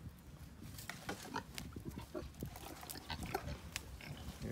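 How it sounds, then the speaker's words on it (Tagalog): A litter of ten newborn piglets squeals and grunts up close on a farm, a busy stream of short, overlapping high-pitched cries. "Pero dami niya pong anak. 10 ang biik"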